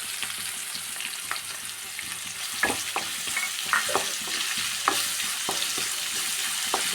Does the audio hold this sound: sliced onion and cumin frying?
yes